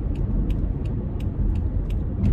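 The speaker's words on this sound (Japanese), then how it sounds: "私はこれから運転して帰ります" A car heard from inside while driving, a continuous low road rumble and engine drone with faint rhythmic high ticking, steady and close, no talking.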